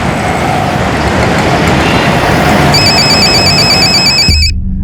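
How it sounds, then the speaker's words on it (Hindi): A telephone rings loudly with a repeated electronic trill over heavy, constant background noise resembling traffic, then cuts off abruptly near the end. "जरा फोन देख तो।"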